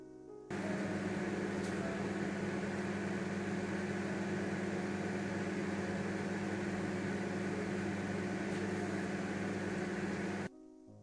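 A microwave oven heating khoya (mawa) hums steadily and loudly for about ten seconds, with a constant droning whir, then cuts off abruptly.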